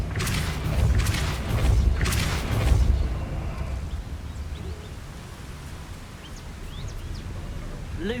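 A spell burst cast in the Hogwarts Legacy video game: several loud whooshing blasts in quick succession, then fading to a quieter ambient bed with faint chirps.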